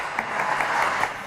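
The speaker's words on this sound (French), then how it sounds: "Allez, on les applaudit." A French TV studio audience applauds a pair of guests on a talk show, a steady, dense wash of clapping that fills the whole short stretch at even loudness.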